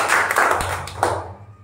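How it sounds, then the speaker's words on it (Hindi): A classroom of young pupils claps briefly for a classmate during a maths lesson, a short burst of uneven hand claps over a low steady hum, fading out after about a second. "चलिए ताली बजा दीजिए।"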